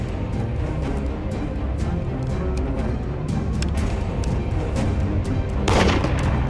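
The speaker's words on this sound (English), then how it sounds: "Stop shooting at each other!" Continuous gunfire in a shootout, a dense, loud rattle of rapid shots with a heavier burst near the end.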